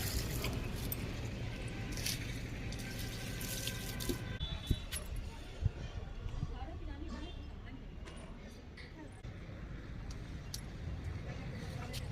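Water pours steadily from a hose or tap into a dry rose plant pot, giving a continuous splashing hiss with a few clinks, while someone talks over it.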